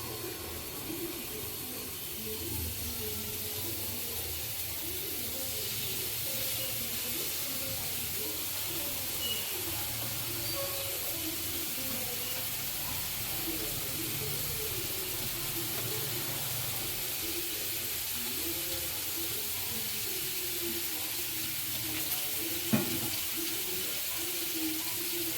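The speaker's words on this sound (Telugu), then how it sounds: "పొద్దున మ్యారినేట్ చేసిన ఫిషెస్ ఉన్నాయి కనుక అవైతే ఇప్పుడు ఫిష్ ఫ్రై చేసేసుకుందామండి" Marinated fish fries in hot oil in a pan, giving a steady, continuous sizzle and hiss close by that holds at an even level throughout, with faint background murmur and clatter.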